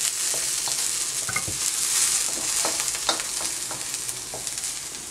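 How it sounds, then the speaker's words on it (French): Onions and carrots sizzling in a pan for a jjajangmyeon sauce, with a spoon scraping and stirring in irregular strokes over a steady close frying hiss, no talking. "vous pouvez ajouter les carottes. Vous allez bien mélanger et laisser cuire quelques minutes."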